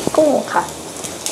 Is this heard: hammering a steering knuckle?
no